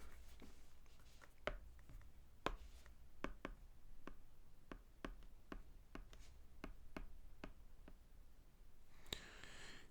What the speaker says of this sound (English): we'll just go over here and we'll write it down.